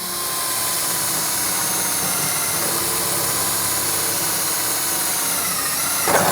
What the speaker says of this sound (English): Drill this hole.